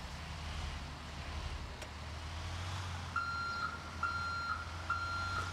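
A Caio Apache Vip III city bus on route 232 in GTA V reverses while parking, giving four evenly spaced reversing beeps over a low idling engine rumble.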